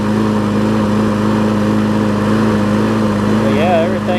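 A John Deere JS63C walk-behind lawn mower engine runs steadily at close range, a loud, constant drone with no pauses or changes in pitch.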